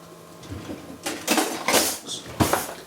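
A spoon scrapes and knocks against a roasting pan as maida flour is stirred into duck or chicken drippings over a slow fire, several irregular metallic clinks and scrapes, close and fairly loud.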